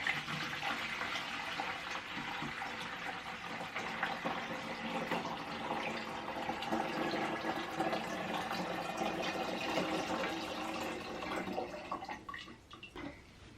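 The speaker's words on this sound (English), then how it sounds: "And then we're filling this up with cool water." Steady rush of cool water pouring from a tap into an Elechomes UC5501 humidifier tank, continuous and close, with a few clicks and bumps near the end.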